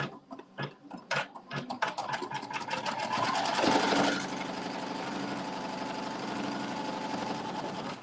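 A sewing machine runs a seam on a log cabin quilt block, opening with a few short bursts of stitching, then settling into a long, steady, fast run, close and clear with no talk.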